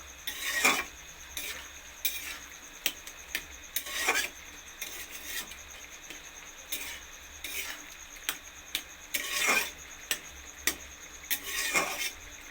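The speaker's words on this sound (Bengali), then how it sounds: "এই যে পেঁপে আলু আমার সেদ্ধ হয়ে গেছে একটু খুন্তি দিয়ে একটু এমনি করে খুন্তি দিয়ে মেরে নেব" A spatula mashes boiled papaya and potato in a pan, making repeated rasping scrapes and knocks in irregular bursts, close and fairly loud, with no talking.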